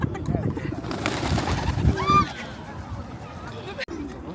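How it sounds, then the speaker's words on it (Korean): Pigeons coo in a public square in Dalian, China, where people feed them by hand. The soft coos rise near the middle, under close, steady talk and crowd murmur. "중국 사람들은 비둘기를 손에다 얹어놓고 논다니까요"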